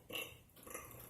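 A forced belch bursts out loud and close, followed after a short pause by a second shorter burp, with breathy noise between.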